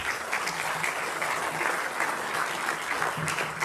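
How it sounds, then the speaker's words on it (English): A room full of people at a youth futsal welcome meeting gives a steady round of clapping, close and continuous for a few seconds with no break. "that person is nobody other than Coach Dozer, so I would like to give him a round of applause."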